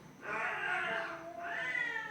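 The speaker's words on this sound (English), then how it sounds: "there is cat fight" Cats fighting outdoors, with two long, rising and falling yowls close by, the second following a brief dip, loud and with no talk over them.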